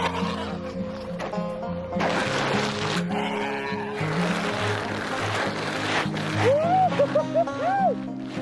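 Several goats bleat intermittently at a barn amid a busy outdoor background, with one clear wavering bleat standing out near the end.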